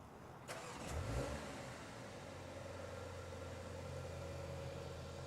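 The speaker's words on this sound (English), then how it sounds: "That turbo 4-cylinder is super mellow, and it just gets that climate control system going for us before I get into the X1." A 2024 BMW X1 M35i's turbo four-cylinder engine fires up by remote start with a brief crank, then settles into a soft, steady, mellow idle heard from outside at moderate distance.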